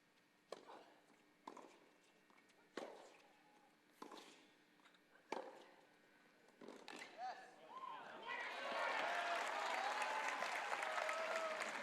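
A crowd at a professional team tennis match in Philadelphia breaks into sustained, building applause and cheering after a few sharp racket hits and scattered claps, heard at moderate distance.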